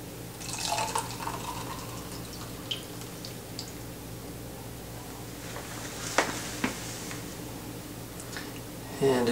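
Guinness stout poured over a turtle-shaped layering spoon to float it on a Black and Tan, giving soft liquid trickling and scattered drips, close and fairly quiet, with a few brief louder splashes.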